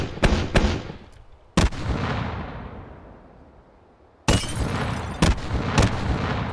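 A rocket launcher in the VR shooter game H3VR fires rapidly: loud booming blasts come in quick bursts, with a long rumbling decay between groups of shots and no voices.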